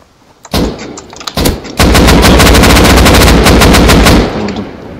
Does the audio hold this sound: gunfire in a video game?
yes